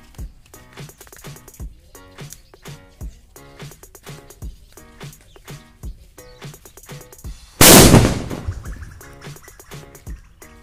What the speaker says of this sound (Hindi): अब जलाते हैं बिग साइज सुतलिबम को,